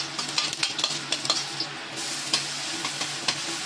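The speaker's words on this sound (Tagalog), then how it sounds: "Lagyan natin ng konting oil at ilagay natin ang ginger" Ginger frying in a little hot oil in a pan, a steady close sizzle with rhythmic stirring scrapes and light ticks of the utensil throughout, no talking.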